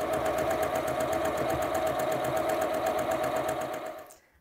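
A sewing machine runs steadily, stitching a quilt seam with a rapid even mechanical whir and close, continuous needle chatter before it stops abruptly at the end.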